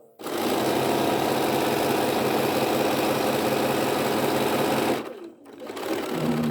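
Sewing machine stitching fabric at a stitch length around 2.3, a steady loud mechanical whir running for about five seconds before briefly stopping and starting again.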